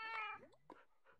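A cat from the Minecraft video game meows once clearly, then a fainter follow-up call comes shortly after, heard alone and close.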